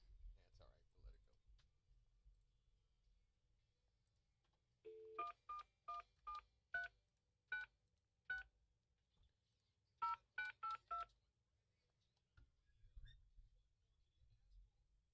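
Telephone dialing tones as a call is placed in a morning radio studio, two quick bursts of crisp keypad beeps with a pause between, faint room sound around them and brief speech at the edges.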